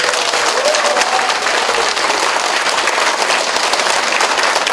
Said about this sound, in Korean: 저희가 선물은 못 드리지만 생일 축하 박수 크게 한번 쳐드리겠습니다